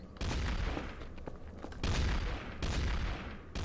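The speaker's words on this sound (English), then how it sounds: "I saw you shooting the detective!" Loud bursts of gunfire in the first-person shooter mod Trouble in Terrorist Town, in three heavy volleys of rapid shots with brief gaps between them and no talk over them.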